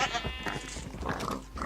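A goat bleats in the Minecraft video game, several short wavering bleats in quick succession over a busy game background, fairly close and clear.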